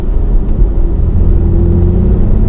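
2016 Porsche 991 Carrera engine heard from inside while driving, a loud steady low rumble and drone with a sustained tone that holds throughout, no talking.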